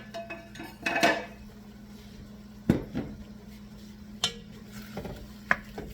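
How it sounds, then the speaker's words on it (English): A metal utensil scraping and knocking against a pot while deglazing and stirring up stuck bits, scattered sharp clinks over a low background hum. "So I'm deglazing this pot, and then we're going to add more stuff to this. I'm stirring it around."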